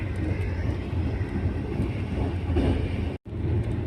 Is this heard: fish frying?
no